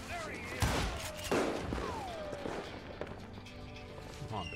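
Rifle fire in the western shooter Call of Juarez Gunslinger: two sharp shots a second apart, followed by ricochet-like whistles and lighter pops amid game noise.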